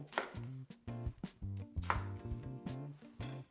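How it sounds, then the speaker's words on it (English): A knife cuts an onion into quarters, giving a quick run of close, distinct chopping knocks on a board in an uneven rhythm, moderately loud, with no talking. "I'm just going to cut these into 4"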